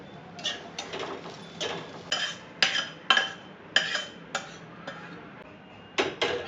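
Metal utensils clink and scrape against a pan and plate as fried onion is moved out, a string of sharp irregular taps at moderate distance with no talk.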